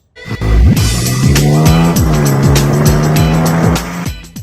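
A vehicle driven hard with a loud revving engine that climbs in pitch through repeated gear shifts, plus squealing tires, close and continuous for several seconds with no talk.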